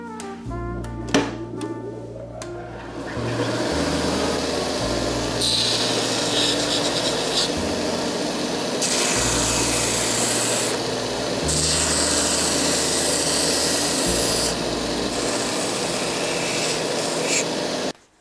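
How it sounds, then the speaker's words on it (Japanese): A thick split bamboo shoe shank, cut to length and width, is shaved down to size with a steady power-tool whine and rasping grind, loud and continuous after a brief clattery start. "かなり厚みがありますのでこのまま入らないのでこれ削っていきます"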